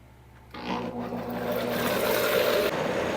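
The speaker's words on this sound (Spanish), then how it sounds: "Dejamos que se licúe por unos 20 segundos y paramos." A blender whirs on after a short pause, blending cream and sugar for cheesecake with a steady, rising whine that fills the rest of the moment.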